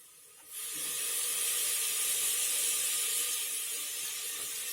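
Tomatoes sautéing with masala in a pan for Salem mutton sukka, a loud steady hiss that starts abruptly and keeps going without a break, with no voices.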